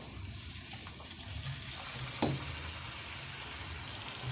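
Bell pepper and onion fry in ghee with a little oil, a soft, steady sizzle with a brief clink partway through.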